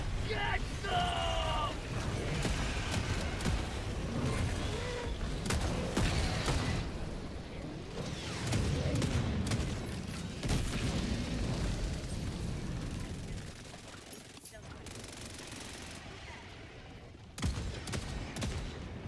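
An autocannon sentry in the video game Far Far West fires in a long, loud, dense stream of rapid shots and bursts, with a voice talking over the gunfire.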